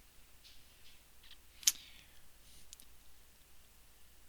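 A single sharp mouse click sounds once, brief and close, against a quiet room background with faint scattered ticks.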